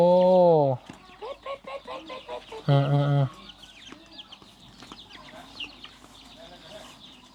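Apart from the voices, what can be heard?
ducks and ducklings calling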